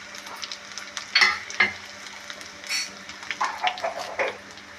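Cumin seeds drop into hot oil while red chili pickle is being made, crackling and sizzling in several short bursts. Faint stirring noises sit beneath a low, continuous frying hiss.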